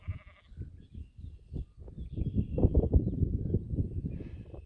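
Sheep bleat repeatedly on a farm where they graze alongside other livestock, overlapping calls rising and falling at close range with a dense, steady rhythm and no talking.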